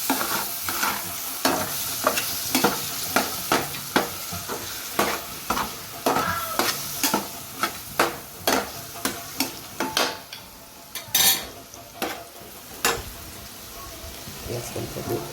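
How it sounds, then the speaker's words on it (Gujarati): Paneer roasting in a pan in a home kitchen, with a steady sizzle broken by rapid, regular scrapes of a spatula that pause briefly and then resume. "આ બાજુ આપણે આ પનીરને પણ સરસ શેકાવા મૂકીશું"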